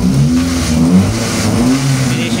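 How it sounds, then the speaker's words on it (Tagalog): Mitsubishi Lancer GLXi engine with a misfire, revved repeatedly: loud, close revs that rise and fall unevenly, stumbling and hiccupping instead of building smoothly. "Sinisinok yung makina niya pagka nire-rev"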